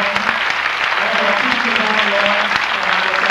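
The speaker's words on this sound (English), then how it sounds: "a round of applause for the entire ensemble might be due" A crowd applauds a jazz ensemble at an awards concert, with thick continuous clapping and a low tonal hum beneath, steady throughout the short stretch.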